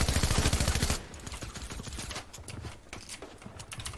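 Gunfire in a shooting video game, beginning with a dense rapid burst of automatic fire followed by scattered, irregular shots at a lower level.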